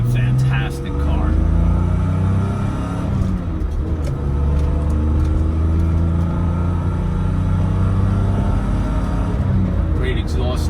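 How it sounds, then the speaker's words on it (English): A 1988 BMW M5 cruising on back roads and highway, its exhaust a steady, loud engine rumble throughout with a brief dip near the start. "Great exhaust tone."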